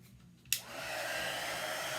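A hair dryer clicks on after a short quiet moment and then blows steadily with a bright, even whoosh, close by, drying orange and black paint on a pumpkin sign.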